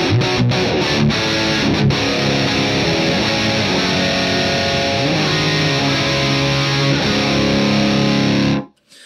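Electric guitar driven through a Matthews Architect V3 overdrive pedal with its boost engaged into a Marshall JCM 800 amp, playing thick, saturated distorted chords and riffs loud and steady for about eight seconds before cutting off abruptly.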